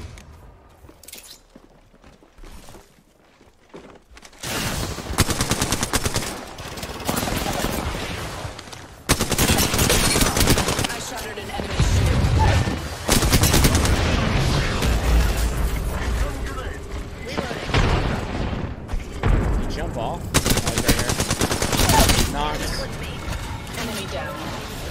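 Loud bursts of automatic gunfire and rapid shots dominate a match of Apex Legends, with dense overlapping volleys, impacts and mechanical clatter over nearly the whole stretch, and spoken game lines mixed in under the shooting.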